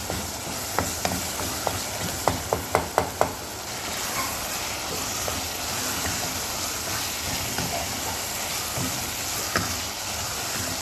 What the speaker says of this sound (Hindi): ये मसाले को अच्छी तरह से भून लिया है चिकन में